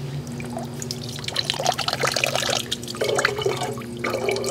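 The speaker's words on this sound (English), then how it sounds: "It's just filtering the water into your canteen." Water poured through a Millbank bag filter into a canteen, a continuous trickling and splashing that grows slightly louder and more broken partway through.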